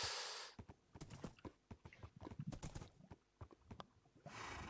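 Horse hooves clip-clop in a Minecraft-style video game, a quick run of crisp, close hoofbeats in an uneven rhythm, with bursts of hiss at the start and the end.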